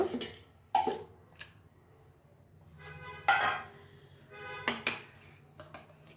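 Scattered clinks and sticky scraping as soft, thick butter is spooned into a mixer jar for making ghee, with quiet gaps between bursts.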